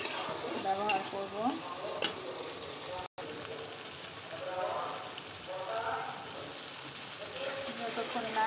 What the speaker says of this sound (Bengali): যতক্ষণ না তেলটা ছেড়ে আসে ততক্ষণ আমি এটাকে ভোনাতেই থাকবো।